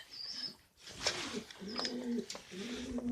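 A pigeon, one of several being fed, coos in soft, low repeated calls close by, with faint higher chirps from other birds in the background.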